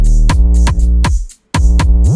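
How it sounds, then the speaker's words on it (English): An open hi-hat sample in a trap beat sounds as bright, sizzling hits riding over heavy, sliding bass notes, loud and rhythmic, with a brief drop-out before the pattern returns. "hat, open hat. It sounds like this."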